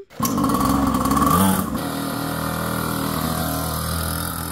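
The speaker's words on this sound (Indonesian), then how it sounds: "ini motor barunya udah siap dipakai" A motorcycle engine runs steadily up close, revving briefly near the start before settling into a continuous idle.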